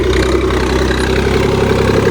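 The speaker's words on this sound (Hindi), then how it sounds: "अपना ट्रैक्टर हल्का सा दब के चल रहा" A tractor engine idles steadily under slight load, producing a continuous deep rumble with a rhythmic low throb and no voices, in a running check for a possible fuel-line blockage.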